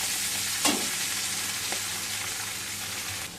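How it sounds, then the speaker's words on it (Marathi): Fresh green chickpea leaves sizzle and fry in oil in a kadhai with green chillies, a steady close hiss with a couple of brief stirring scrapes. "आता आपण भाजी घालून घेऊया"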